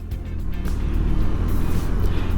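A Benelli TRK 502X adventure motorcycle is ridden over bumpy ground, its engine a steady close rumble mixed with wind buffeting and road noise, no talk heard.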